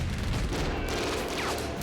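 A World War II individually portable machine gun firing at about 1,300 rounds per minute on Iwo Jima, a dense continuous loud rattle of rapid fire mixed with battle noise.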